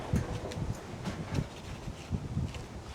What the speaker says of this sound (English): Trying to fight this wind